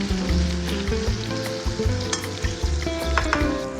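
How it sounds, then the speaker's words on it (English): Butter melts in a hot pan with a loud, steady sizzle and crackle that runs throughout, with a low tonal hum underneath. "2 spoons of butter into the pan."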